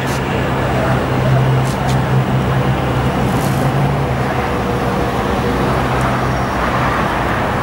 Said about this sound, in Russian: Машина движется